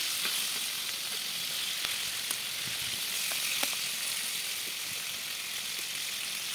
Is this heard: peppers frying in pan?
yes